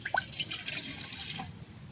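Cold water pours from a cup into a kettle for a camping stove test, a close, steady trickling splash for about a second and a half that then stops.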